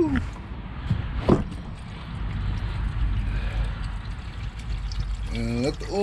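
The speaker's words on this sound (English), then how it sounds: "And let the oil drain." Engine oil draining from the 15 mm drain plug of a GM 5.3 liter V8 (L83), a continuous pouring trickle close by, heard under someone talking.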